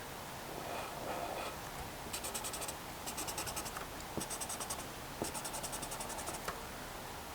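Pen or marker strokes on paper while drawing a chemistry bonding diagram, several short bursts of scratchy writing in a quiet room, close and fairly soft.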